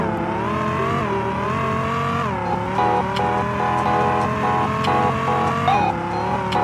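Race cars in the Roblox game Vehicle Legends drone with steady synthetic engine tones that shift pitch as they accelerate and change gear, loud and continuous.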